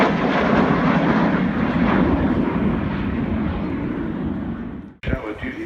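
Gloster Meteor jet aircraft roaring past at an airshow, a loud sustained broadband engine rush filling the air for about five seconds before cutting off abruptly, followed by faint crowd and ambient noise.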